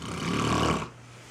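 An animal snores with one drawn-out, rasping breath lasting under a second, fairly loud and close, then fades to near silence.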